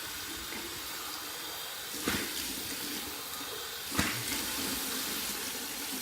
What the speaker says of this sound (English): I'm gonna do my 2 final rinses, 1 warm, 1 cold,